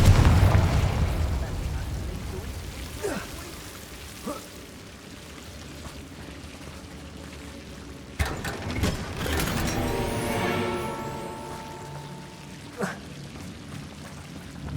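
Magical blasting-spell explosions in the fantasy game Hogwarts Legacy: several sharp booming bursts spaced through the stretch, the loudest around the middle, over mechanical rumbling and low background noise.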